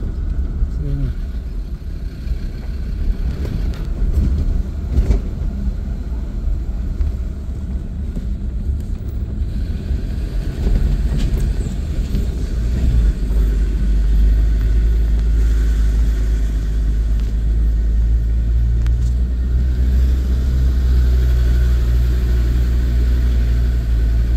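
A car drives along a mountain road in the Pyrenees, with a steady, close engine and road rumble and buffeting wind noise that continue throughout.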